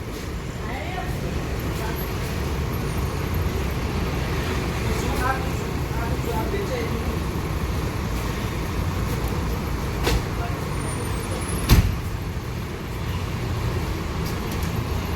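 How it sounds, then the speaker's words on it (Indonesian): A Harapan Jaya bus engine rumbling steadily as the bus pulls away, a constant low drone with traffic noise around it, one brief louder knock, and people talking faintly. "Bus sudah mau berangkat."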